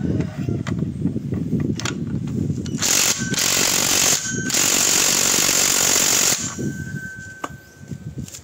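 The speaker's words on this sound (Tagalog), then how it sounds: "Kung nagtatanong kayo kung ano yung gamit ko na power tools, China lang po yan, no brand name." An unbranded Chinese power tool, likely an impact wrench, works on the pulley of an ADV 350 scooter, firing loud rattling hammering bursts of about three seconds each, close by, with a mechanical ring in between.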